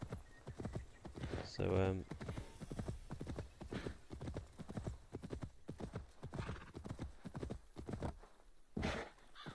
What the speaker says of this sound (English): Cool horse.